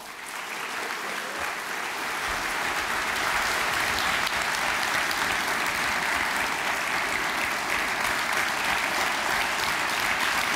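Loud, sustained applause from a large crowd at an SLD party election convention hall for Aleksander Kwaśniewski, a continuous dense roar of clapping that swells slightly and holds steady throughout.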